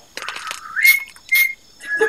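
Short bursts of a person whistling inside the game Arma 3, a few quick warbling tones, close and fairly loud, with brief gaps between them.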